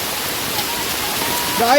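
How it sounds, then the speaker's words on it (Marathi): Heavy rain pours in a dense, steady rush on a trek to Mahimatgad fort near Nigudwadi, Ratnagiri, Konkan, and a voice briefly rises at the end. "पाऊस पडतोय पाऊस"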